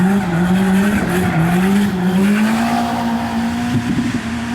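JZ-engined drift car on track, a steady loud engine drone holding near one pitch as if bouncing off the rev limiter, mixed with tire squeal and skidding noise throughout.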